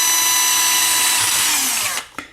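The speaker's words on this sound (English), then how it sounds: "what I'm gonna do is put the drill bit right through the center and drill right." A power drill bores holes through a Team Associated B4.2RS RC car chassis for a chassis brace upgrade: one loud, steady, high whine that winds down near the end, followed by a brief clunk.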